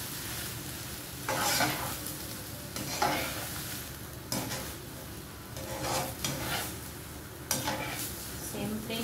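Sautéed zucchini with sardines being stirred in a pan, a utensil scraping and tossing in repeated sweeps over a steady, soft sizzle of frying.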